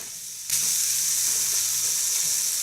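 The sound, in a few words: liver and onions sizzling in pan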